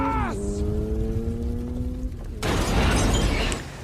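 Brian's car, its nitrous oxide system hit by gunfire in a film scene, goes up in a sudden loud blast with crackling debris, after several seconds of whining, sustained tones.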